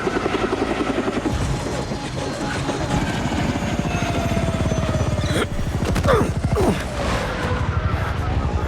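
Steady loud helicopter rotor thump with a whining engine drone from the Saints Row video game, continuous throughout with brief mechanical swishes partway through.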